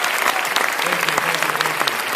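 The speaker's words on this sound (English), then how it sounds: "Another round of applause for these guys right here" Crowd at a PAX East live show applauding, a brief dense burst of clapping with some cheering and voices mixed in.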